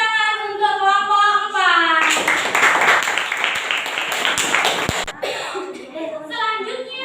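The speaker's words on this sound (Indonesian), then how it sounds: "beri tepuk tangan untuk kelompok" A burst of clapping from an audience for a group after its presentation breaks out between stretches of speech, lasting a few seconds before fading as talking resumes.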